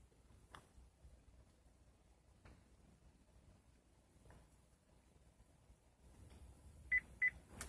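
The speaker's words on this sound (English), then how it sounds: "Two beeps." Two short, high electronic beeps in quick succession near the end while programming a Chevy keyless entry fob, following faint clicks and low background hum.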